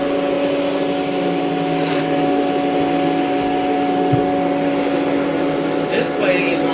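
A vacuum cleaner drones steadily on carpet, a constant mechanical hum with a sustained tonal whine throughout, and a few faint knocks and voices intrude briefly.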